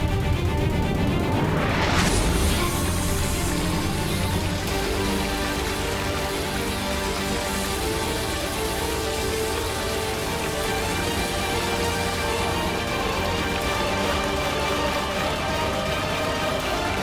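Steady, dense rain pours down as a TV show effect, a constant wash of falling water that starts with a short swoosh and then keeps going evenly for the rest of the clip.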